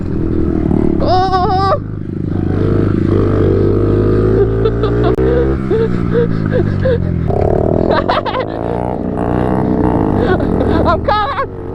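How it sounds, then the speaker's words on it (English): Pit bike engines rev and whine in rising and falling pitch sweeps while off-roading on trails, loud and close, with people shouting and laughing over them. "Pit bikes off-roading."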